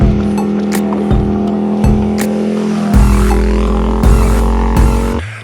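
A motorbike travels along an outdoor road in fine weather, its engine a steady, fairly loud drone with repeated rhythmic revving surges before fading at the end; no one speaks.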